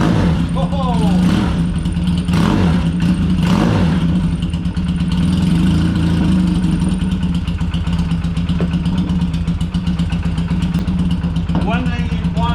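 A used motorcycle is kick-started and settles into a steady, close, loud idle, its engine drone running continuously with brief revs near the start and end.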